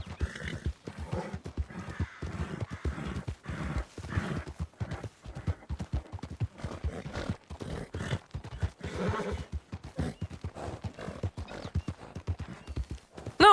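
Video-game horse hooves on a dirt trail: a quick, steady clip-clop of trotting that runs evenly through the whole stretch at moderate loudness, close to the listener.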